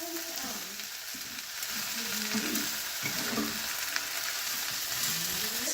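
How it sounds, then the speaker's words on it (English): Rice fries and is stirred in a pan with a constant close sizzle, and repeated scraping strokes of the utensil sound over the hiss with no talk. "break it up and give it a good stir"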